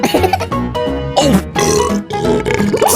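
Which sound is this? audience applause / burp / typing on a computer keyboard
burp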